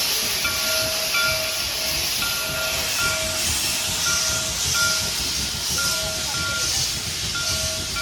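Shay geared steam locomotives on the Cass Scenic Railroad hiss and chuff with a rhythmic churning beat, punctuated by repeated short whistle-like tones, steady and moderately close.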